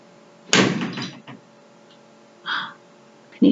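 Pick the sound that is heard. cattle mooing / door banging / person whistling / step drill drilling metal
door banging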